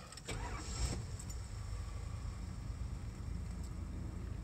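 A 1987 Dodge Dakota pickup's engine cranks and catches on a hot start, then settles into a steady, close idle rumble with no talk.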